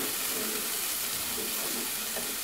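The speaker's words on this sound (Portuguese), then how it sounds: "Deixo refogar um pouquinho" Garlic and onion sauté in a hot pan for minced beef, giving a continuous, even sizzle and hiss that stays close and steady throughout, with no talking.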